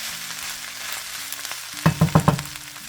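Food frying in a one-pot pan on medium heat, a soft continuous sizzle broken near the end by four quick scraping stirs of a utensil, close and without speech.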